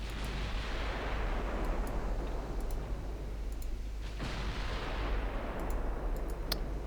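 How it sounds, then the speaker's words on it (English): Naval guns firing in Ultimate Admiral Dreadnoughts during a large-cruiser battle at long range: a steady low rumble with a few distant booming shots and faint ticking clicks, no voices. "Firing at 22 kilometer range."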